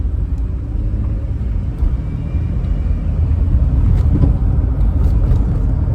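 Car driving along with a steady low road rumble and engine drone filling the cabin, loud and continuous, growing slightly heavier toward the end, with no talk.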